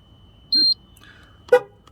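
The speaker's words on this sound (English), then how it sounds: "the car beeped again, it's a pass as well" A short electronic beep from a GMC Acadia confirming a tire pressure sensor reset, followed a second later by a brief, brighter chirp, both near and clear over quiet background.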